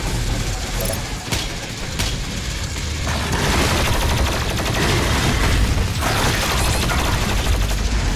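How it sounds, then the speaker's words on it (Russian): Dense, continuous gunfire and explosive blasts from the video game DOOM Eternal, a loud unbroken barrage with booming impacts and mechanical clatter, no pauses and no clear voice over it. "кто это стреляет?"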